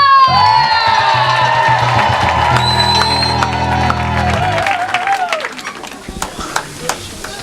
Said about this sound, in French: Les cris de joie.